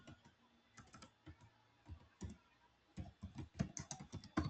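Keys clatter on a computer keyboard in irregular bursts of close, crisp taps, pausing briefly before a faster run of typing toward the end, with no voices.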